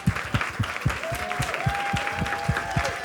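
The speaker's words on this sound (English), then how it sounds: "they're disappointed and they're still clapping" Live comedy-show audience applauding for a stand-up comedian, steady dense clapping throughout with a rising tonal music line joining partway, fairly loud and close.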